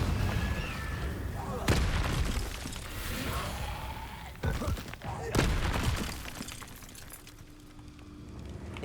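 Confringo blasting spells in Hogwarts Legacy: several sharp, booming explosive bursts with crackling tails, scattered across a noisy combat scene with talking underneath.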